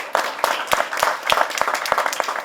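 Sparse, evenly spaced claps ring out from an audience honouring participants at an international arbitration moot court competition on foreign direct investment, each clap sharp and distinct.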